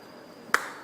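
One sharp hand clap swatting a mosquito, a single crisp close slap over quiet room tone, nothing else following.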